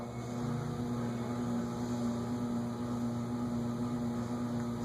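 Ceiling fans in a bridal shop, running on the wrong type of speed control, give off a steady low electrical hum with faint tonal whine, continuous and even throughout with no voices.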